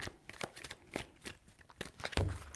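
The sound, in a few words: shuffling tarot cards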